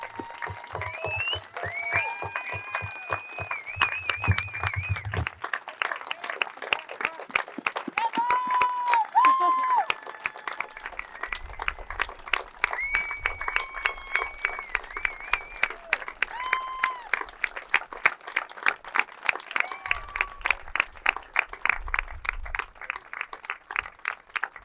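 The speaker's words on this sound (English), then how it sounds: "let's give this gentleman, Mr. Jim Danley, a great big round of applause" Sustained applause from an audience at a coach's jersey retirement ceremony, dense steady clapping running the full length with occasional cheers and a voice briefly speaking over it.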